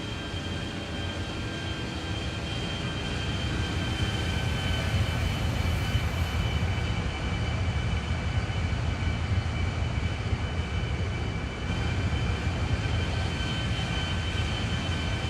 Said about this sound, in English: Here is a cinematic flyby of the flight procedure simulation Embraer E-190 for X-Plane 12.